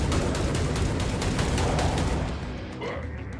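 Rapid gunfire from the video game Hellbound, a Doom-like shooter, with dense continuous bursts of shots over a roaring low rumble, loud throughout and easing slightly near the end.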